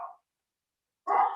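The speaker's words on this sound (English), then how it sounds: "Sorry for the dogs." A dog barks twice indoors during a talk at an education conference, one short bark followed after a long pause by a louder, fuller bark, both fairly close.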